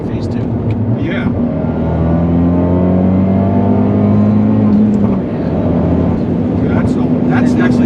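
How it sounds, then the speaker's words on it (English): Abarth 124 Spider with a big turbo upgrade pulling hard in second gear up a slight incline with a passenger aboard, its engine note rising steadily and loudly in pitch, with someone briefly speaking over it. "that second gear pull was slightly uphill with a person in the car"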